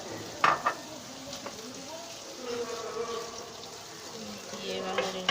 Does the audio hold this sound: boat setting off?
no